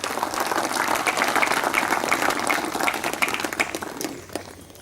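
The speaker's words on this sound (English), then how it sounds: "give a big clap to Lao Tzu" An audience claps together in sustained applause for Lao Tzu during a spiritual talk, a dense, steady wash of many hands that thins and fades toward the end.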